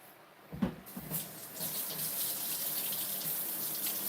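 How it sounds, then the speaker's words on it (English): Tap water running into a sink while hands are washed, opening with a few close splashes and then settling into a steady, soft rushing stream. "let me wash my hands again."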